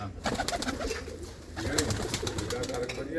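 Pigeons in a coop coo softly, with low repeated calls amid rustling and faint background noise, close but quiet.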